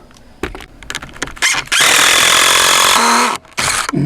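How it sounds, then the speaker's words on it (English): Power drill driving screws into a wooden garden archway: short bursts of motor whine, then a long loud sustained run that bogs and squeals near the end before a final brief burst, up close. "Then we're going to put a couple of screws in here."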